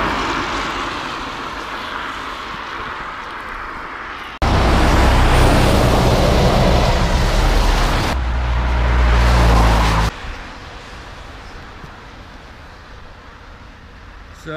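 Vehicles rush past on a busy road in Pembrey, Carmarthenshire, with a loud close pass swelling for several seconds before easing back to steady traffic rumble.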